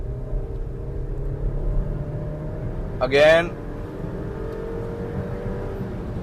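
A Suzuki Victoris engine hums steadily inside the cabin, then briefly swells with a short rising rev before settling back to its drone, while a person talks over it.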